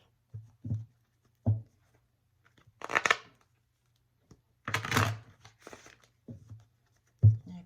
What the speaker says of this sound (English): going to shuffle the energies and the cards right now to clear them of anything else that may have been read by shuffling